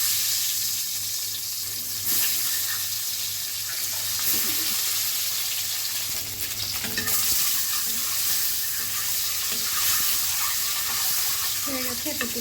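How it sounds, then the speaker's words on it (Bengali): Duck egg frying lightly in hot oil, a steady broadband sizzle running throughout at moderate level with occasional clinks and scraping of a utensil in the pan. "প্রথমে হচ্ছে ডিমটাকে একটু হালকা করে ফ্রাই করে নিব।"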